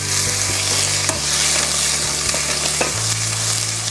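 Mushrooms and onion sautéing gently in a pan on an induction hob at medium heat, giving a steady close sizzle and hiss throughout with occasional soft scrapes of stirring and a faint hum underneath.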